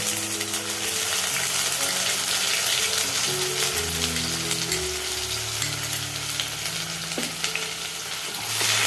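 Onion paste fries in oil left over from frying raw banana kofta, producing a continuous low sizzle and bubbling with soft stirring scrapes and a single brief clink.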